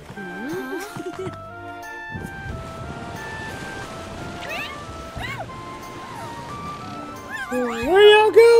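Cartoonish cat meows from the video game Dragon Quest Treasures rise and fall in pitch several times over game music, with a person talking throughout.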